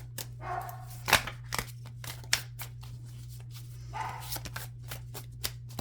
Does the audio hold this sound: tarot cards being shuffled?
yes